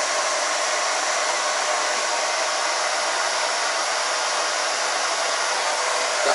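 A hair dryer blows steadily on a short haircut during a hairdressing training session, a loud continuous airy whoosh that stays even from start to finish with no talking over it.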